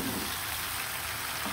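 Fried chicken pieces and potatoes hiss softly in oil in a pan, a constant dense sizzle like light rain, with a faint stirring rustle.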